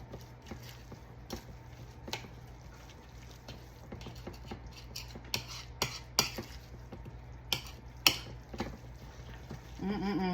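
A utensil mixing seasoned food with garlic powder, black pepper and salt in a bowl, producing soft repeated clinks and scrapes in an irregular rhythm, close and fairly quiet.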